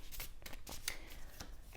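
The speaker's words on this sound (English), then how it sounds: "One more shuffle feels about right." A deck of oracle cards being shuffled, several quick faint riffling snaps in close succession in a quiet room.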